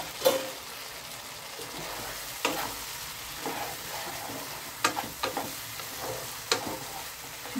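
Paneer pieces fry for a curry in a pan, giving a continuous soft sizzle close by. Several sharp clinks and scrapes of a spatula against the pan break in at irregular intervals.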